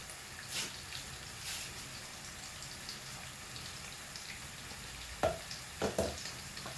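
Vegetables sizzle faintly in a pan for a veggie biryani, a soft steady crackle with a few brief sharper pops near the end.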